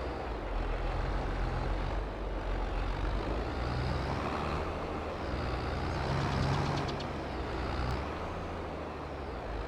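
Farm wagon driving in the farming game Stone Valley, a steady low engine rumble with rolling road noise throughout, close and continuous with no talk.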